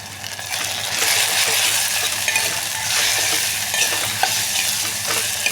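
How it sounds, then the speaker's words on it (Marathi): Dry spices being stirred into masala dal khichdi with onion frying in oil and ghee, a steady sizzle with soft scraping of a spoon around the pan at close range. "आता सगळे हे सुके मसाले आपण त्याच्यामध्ये घालू आणि हे मिक्स करायचं"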